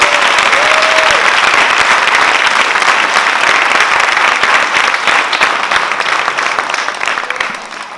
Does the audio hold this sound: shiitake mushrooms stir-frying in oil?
no